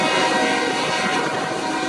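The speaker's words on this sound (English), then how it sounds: "As nighttime approaches, we see our last train for the day." A train rolls past at nightfall in Kansas City, a steady, loud broadband rumble and roar that holds evenly with no pauses, heard up close and alone with no voices.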